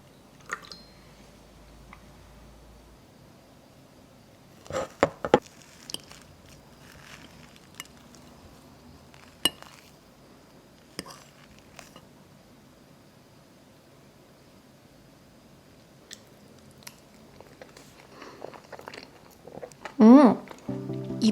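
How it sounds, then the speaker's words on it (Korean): Someone eats a slice of fig fraisier cake with black tea, with soft bites and quiet chewing scattered through near-silence and a louder burst near the end. "이제 한 조각 떠서 홍차랑 한번 먹어보도록 하겠습니다"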